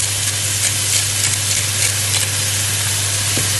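Onions and mushrooms frying in butter with salt and pepper in a pan, a steady dense sizzle that stays loud and even throughout with a low constant hum beneath, no voices.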